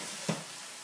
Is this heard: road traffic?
no